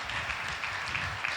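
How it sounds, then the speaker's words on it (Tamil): A church congregation bursts into sustained applause during a Sunday service, a dense, even wash of many hands clapping with no distinct voices. "கைத்தட்டுங்க பார்க்கலாம், நல்ல கைத்தட்டுங்க பார்க்கலாம்."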